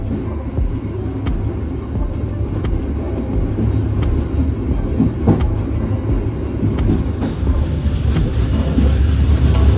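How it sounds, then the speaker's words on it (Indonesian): Steady rumbling of a moving passenger train in East Java, Indonesia, heading toward Surabaya Kota, loud and close from onboard, with rhythmic clacks of wheels over rail joints throughout. "saat ini kereta yang kita naiki ini melaju menuju ke arah"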